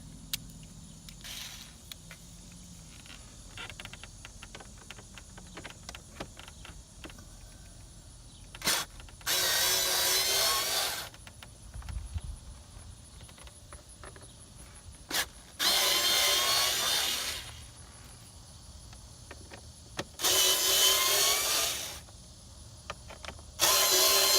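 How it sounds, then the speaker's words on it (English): A rechargeable cordless screwdriver backing out air filter box screws on a 2019 Volkswagen Atlas, three separate whirring bursts of about a second or two each, separated by quiet handling clicks. "what I'm going to use is my rechargeable screwdriver here, make it easier"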